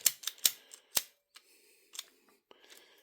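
Tubing cutters snipping at a rubber hose, a series of sharp, close clicks and snaps in uneven bursts, several quick cuts early and a few sparser ones after, with no talking.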